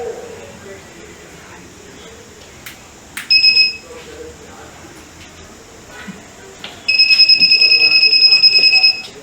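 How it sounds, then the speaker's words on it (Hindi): Smart goggles that detect obstacles sound a shrill electronic buzzer, one short burst and then a longer, louder sustained tone, heard over faint background room noise. "जब व्यक्ति दीवार के जितना पास जाएगा उतने जोर का बजर बजेगा।"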